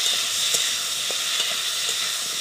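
Potatoes sautéing in a pan with ginger paste and chili paste, a steady close sizzle with faint scraping taps of stirring, no voices.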